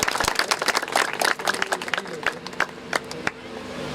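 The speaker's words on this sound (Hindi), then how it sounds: "कंपनी की तरफ से तालियां जोरदार होनी चाहिए" An audience at a farmers' recognition event applauds in uneven bursts of clapping, loud at first and then thinning into scattered claps, with background voices mixed in.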